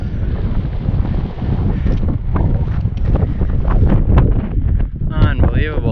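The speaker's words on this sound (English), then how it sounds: "it's a bit windy" Gusty wind buffets the microphone on an exposed mountain ridge at Tongariro, New Zealand, a continuous low roar with rising gusts while someone speaks over it.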